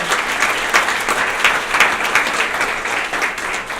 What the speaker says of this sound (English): a big round of applause for all of you for being here.